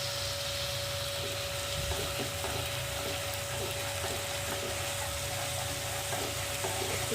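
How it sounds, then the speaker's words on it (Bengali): Spices frying with ginger-garlic paste in a pan while making shoul fish kalia, a steady soft sizzle with occasional stirring scrapes running throughout, close and continuous under a faint background hum. "ততক্ষণে এই পেস্টের সাথে এটা ভাজা হচ্ছে।"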